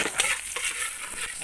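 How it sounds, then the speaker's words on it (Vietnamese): Pork ribs frying in a pan, a steady close sizzle and crackle with brief stirring bursts, no talking. "mình phải chiên sơ cái đi các bạn"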